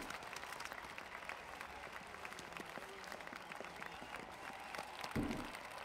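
In a Spider-Man video game, a crowd at a ceremony claps in steady, moderately quiet applause that runs for several seconds without a break.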